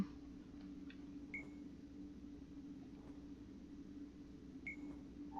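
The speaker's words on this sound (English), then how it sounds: "Do you hear that beeping? What is that?" Two short electronic beeps from a device in the video game Dreamfall Chapters sound a few seconds apart over a low, steady hum, with nothing else prominent.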